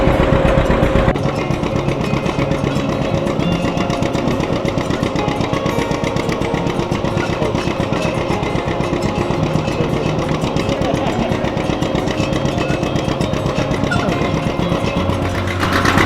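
A John Deere tractor engine runs continuously at an apple orchard, a loud, close, steady rattling chug that never lets up, with no voices over it.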